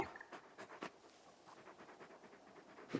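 A large dog companion pants in the video game Final Fantasy XVI, with quick rhythmic breathy huffs repeating close by and fairly faint, ending in a slightly louder puff.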